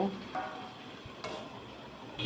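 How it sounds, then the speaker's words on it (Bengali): Mutton with spices being stirred in a pan for a Bengali kosha dish, a soft, low scraping and faint sizzle, steady and close with small bumps of utensil contact. "ভালো করে মিশিয়ে নিতে হবে মাংসের সাথে"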